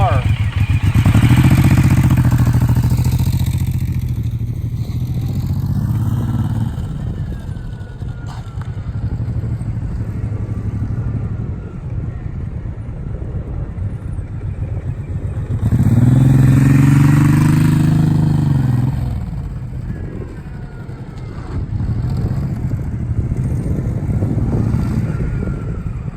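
Suzuki Boulevard M109R cruiser motorcycle rumbles close by through a tight 16-foot U-turn, with two louder bursts of throttle separated by a steady, lower idle-like throb; someone talks over it.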